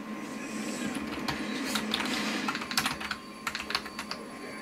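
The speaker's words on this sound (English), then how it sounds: "I'll type in another one just to show you that the keyboard works" Keys clatter on a computer keyboard in a home editing setup, bursts of quick clicks getting denser and sharper toward the end, heard close up with no talking.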